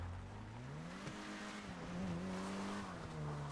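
A car in the open-world game GTA 5 driving off, with a steady droning engine tone that rises and shifts pitch as it accelerates and moves away, continuous and moderately loud.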